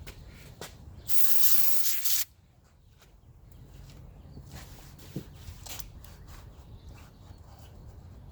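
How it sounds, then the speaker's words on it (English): Engine degreaser is sprayed onto a microfiber cloth in one steady hiss lasting about a second, followed by quiet handling and faint rustling of the cloth. "we're going to take some engine degreaser and we're going to spray it onto our microfiber cloth"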